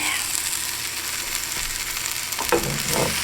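Grilled cheese with bacon frying in a pan, a steady close sizzle and crackle running throughout, with a few brief scraping or stirring clatters near the end.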